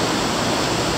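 River water flowing through a channel toward a wash house by the Peñafrancia river in Gijón, a dense steady rushing wash, close and loud, with no voices.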